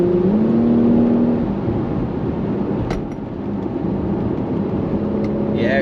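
A Porsche Macan S accelerates with a steady, loud engine drone and road roar that hold throughout, heard from inside the car.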